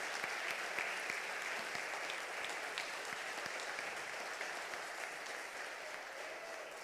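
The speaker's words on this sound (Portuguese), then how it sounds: "Dê uma salva de palmas para Jesus" Church congregation at a Sunday evening service giving sustained applause, a dense, even wash of clapping from many hands, moderately distant and unbroken by speech.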